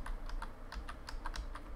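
Arrow keys are pressed on a computer keyboard while a game is played, producing a steady run of about ten evenly spaced, crisp clicks over a low background hum, with no voices.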